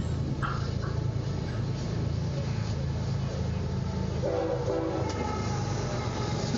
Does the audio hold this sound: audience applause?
no